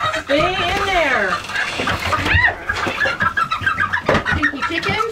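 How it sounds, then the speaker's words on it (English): Chickens clucking close by on a farm, repeated rising and falling calls overlapping in a busy cluster, with people talking intermittently underneath. "Pinky chickens."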